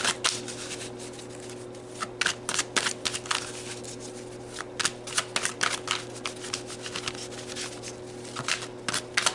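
Tarot cards shuffled and drawn by hand at close range: bursts of quick riffling and flicking scattered through the stretch, separated by short pauses, over a steady low electrical hum, with no talking.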